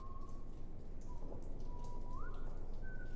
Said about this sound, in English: This whistling, man.